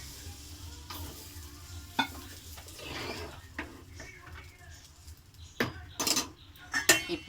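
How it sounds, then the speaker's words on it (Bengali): Rui fish head with potatoes and pointed gourd stirred and sautéed in a pan, spoon scraping and clinking against the metal at irregular intervals over a low, steady sizzle, with a few sharper knocks near the end. "একটু নেড়ে চিড়ে কষানো হবে।"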